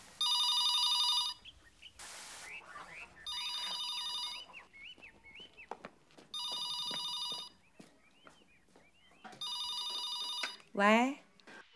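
A telephone rings in a home during a Chinese TV drama, four loud electronic bursts spaced about two seconds apart, with soft rustling and footsteps between them and a brief rising chirp at the end.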